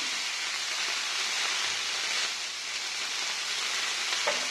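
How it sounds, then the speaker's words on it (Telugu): Freshly washed ponnaganti leaves with garlic cloves frying in a pan on a low flame, giving a steady, even hissing sizzle that holds throughout with one faint clink near the end, no voices. "ఈ ఆకంతా కూడా లో ఫ్లేమ్లో వేయించుకోండి"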